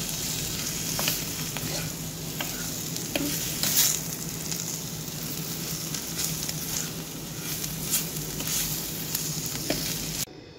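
Bitter gourd (karela) frying over a slow flame while being stirred and mixed, a continuous close sizzle broken by light utensil clicks and scrapes.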